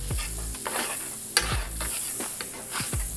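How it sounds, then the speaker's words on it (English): Burgers sizzle in melted butter on a hot Steelmade flat top griddle, with a steady, close frying crackle and occasional scraping or stirring strokes throughout. "Got a nice sizzle."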